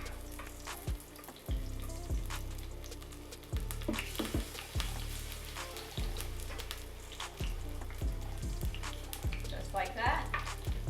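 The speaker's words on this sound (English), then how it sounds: "we're just gonna fry these up in batches" Vegan corn pancake batter fries in hot oil in a pan, a steady close sizzle and crackle with occasional scraping and tapping from a utensil, and no talk.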